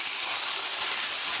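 Ground meat mixture for Asian lettuce wraps sizzling in a hot pan, a steady bright hiss that stays even throughout.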